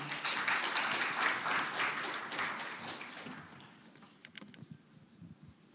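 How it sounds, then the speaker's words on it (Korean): Warm audience applause welcoming a student contestant at a history and culture speech competition, a full crowd clapping loudly that gradually thins to scattered claps and rustling. "큰 박수로 맞이해 주시기 바랍니다."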